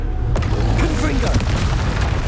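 A booming Confringo spell blast in the video game Hogwarts Legacy, one loud close burst with a rumbling low end and crackling tail lasting about two seconds, over continuous game noise.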